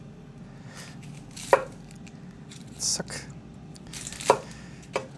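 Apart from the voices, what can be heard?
chopping an onion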